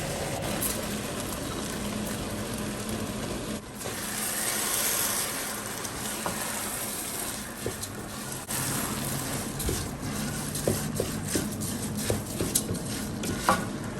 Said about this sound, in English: I'll also drop a few onions in there and make sure it simmers for about 2 minutes